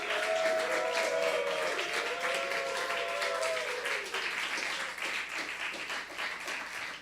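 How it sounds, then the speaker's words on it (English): An audience applauds at a talk on South Korean culture. Steady clapping runs throughout, with a sustained tone over it in the first half, then thinner, more scattered claps. "Please give him applause."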